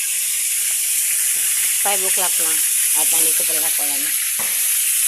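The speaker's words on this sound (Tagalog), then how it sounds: "Nagpiprito ng pagkain ng aso." Steady hissing sizzle of dog food frying in a pan, continuous and close, with a person talking over it.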